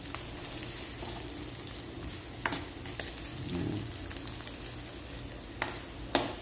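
Garlic and onion frying in a pan for pork adobo, giving a steady close sizzle with a few sharper crackles and stirring clatters. No one speaks.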